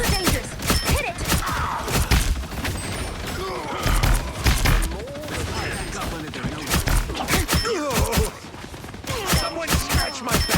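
Rapid bursts of turret gunfire and heavy explosions in the video game Marvel Rivals, loud and dense over about ten seconds, with shouted in-game voices mixed in.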